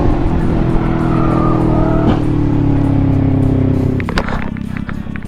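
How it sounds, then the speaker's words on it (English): Car engine running loud and close, holding a steady revving tone before cutting to a rougher, choppier sound with knocks near the end; no clear talk over it. "Hey, turn the car off."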